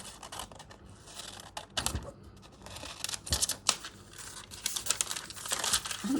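Scissors cut out fabric for a patchwork cross-stitch and appliqué piece, making close, uneven snips mixed with crinkling rustles of material and paper.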